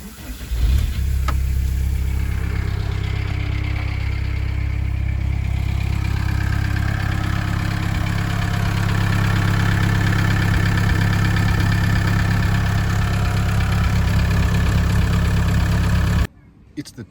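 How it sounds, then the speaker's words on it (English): A van engine with a newly fitted exhaust starts and settles into a steady, loud idle, a deep low rumble running unbroken for about sixteen seconds before cutting off abruptly near the end. "Okay, so now the new exhaust is on. I'm just going to start the car,"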